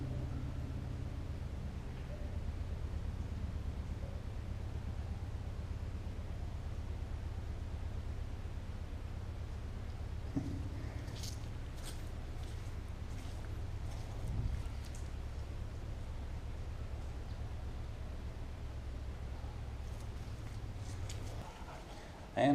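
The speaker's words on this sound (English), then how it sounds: "you hear a train coming" Low, steady rumble of a distant train heard from inside an abandoned 19th-century railroad tunnel, holding for a long stretch then dropping away near the end, with faint rustles above it.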